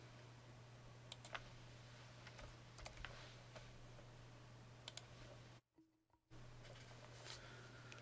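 Someone types on a computer keyboard with a few faint, scattered clicks and short key bursts over a low steady electrical hum, with a brief silent gap.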